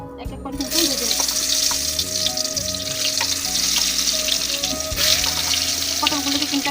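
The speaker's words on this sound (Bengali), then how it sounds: "এখন পটলগুলোকে এক এক করে কিন্তু ভেজে নিব।" Pieces of pointed gourd (potol) fry in hot oil in a wok, giving a loud, continuous sizzle with occasional crackles and a faint steady tone underneath.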